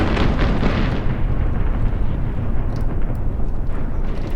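Flamethrower torching a tank crew in the war game Graviteam Tactics: Mius Front, a loud, continuous roaring rush that fills the whole stretch with dense broadband noise and no pauses.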